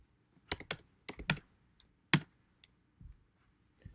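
Computer keyboard typing followed by a press of the enter key, heard as a few scattered sharp clicks and short bursts of keystrokes with quiet gaps between them, close and fairly soft, with no talking.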